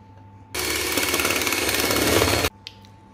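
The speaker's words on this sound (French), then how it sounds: "Et je vais venir les monter en chantilly." Electric mixer whipping cold cream with mascarpone, powdered sugar and vanilla into chantilly, a loud, steady motor whir that starts abruptly, runs about two seconds and cuts off, followed by a faint clink.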